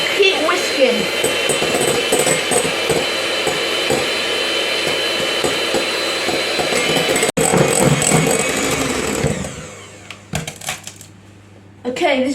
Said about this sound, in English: turn your whisk on, and then gradually add your sugar